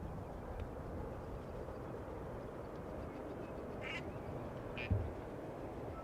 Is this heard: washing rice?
no